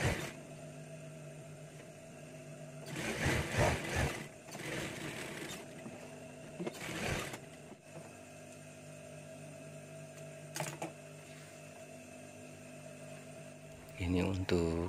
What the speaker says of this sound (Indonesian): Setelah itu langsung kita jahit pinggirnya ya teman-teman, kurang lebih 1/2 cm ya dari pinggir.